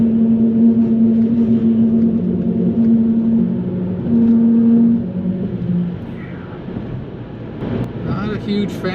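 Wide tires singing over metal bridge grates on a highway drive, a steady loud droning hum with sustained tonal whine that rises and falls, under road rumble and wind, ending in a rougher louder stretch.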